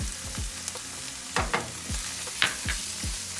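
Garlic sizzles in a hot pan and is stirred, a constant close frying hiss broken by a few scraping stir strokes, with no talk.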